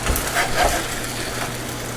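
Cheesesteak meat and onions sizzle on a hot griddle, a steady close frying hiss with faint crackles and no one talking.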